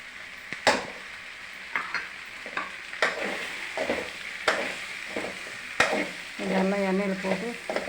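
Taro pieces saute with chili powder in a pan: a soft, steady sizzle broken by sharp spatula scrapes and knocks every second or so, plus a brief warbling tone near the end.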